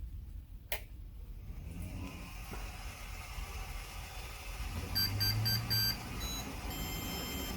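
A Tronxy XY2 Pro 3D printer sounds a short run of electronic beeps on reboot, clustered around the middle of the clip over a steady low machine hum, with a sharp click near the start.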